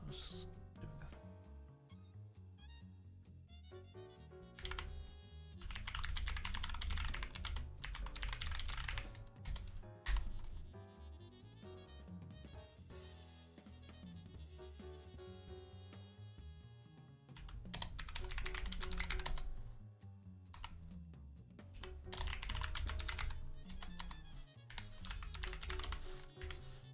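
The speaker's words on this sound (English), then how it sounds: "I gotta click keyboard. They are not blues. They are, in fact, Kale Jades. So, functionally green switches." Clicky mechanical keyboard with Kailh Jade switches typed in quick bursts of sharp clicks, pausing and resuming across the stretch, quiet and close with some other faint background sounds.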